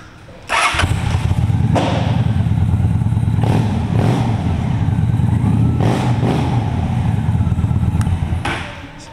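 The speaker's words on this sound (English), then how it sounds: "See, the Cobra pipes do have a nice rumble to them." A 2005 Honda VT750 Shadow Spirit cruiser with Cobra pipes fires up and settles into a loud, steady, deep rumbling idle, close by, with a few small knocks over the engine.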